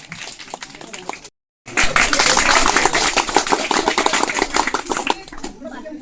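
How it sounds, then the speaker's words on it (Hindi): Students at a school sports activity day clapping loudly for the second-place house, a burst of fast crowded applause after a brief lull, with a voice audible beforehand. "जिया रानी सदन वाले बच्चों के लिए भी आप जोरदार ताली बजा दीजिए"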